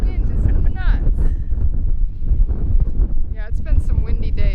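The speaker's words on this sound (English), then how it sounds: "Wow, this wind is nuts." Strong wind gusting across an open market-garden farm, roaring steadily into the microphone with broadband buffeting throughout, while people talk over it.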